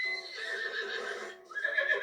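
A horse in Zelda: Breath of the Wild gives a bright, shaky whinny lasting about two seconds, close and clear, with a second shorter neigh at the end and no talk.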